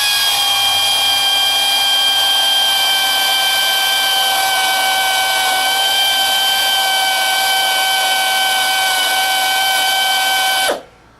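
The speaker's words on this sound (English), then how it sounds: "we're going to go ahead and see if we can drill this boron steel" A spot weld cutter drill bit grinds against heat-treated boron steel, a loud steady high-pitched whine with sustained tonal harmonics lasting about ten seconds before stopping abruptly; no talking.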